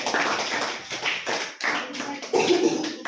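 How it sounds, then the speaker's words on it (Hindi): Students in a digital literacy class clap for classmates, a dense, continuous patter of many hands filling the room at steady loudness, with a few voices mixed in. "तालियां बजाते रहिए इनके लिए"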